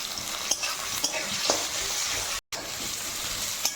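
Chopped onion and three green chillies frying in hot oil give a dense, continuous sizzle with soft stirring knocks every half second, broken by a split-second dropout near the middle.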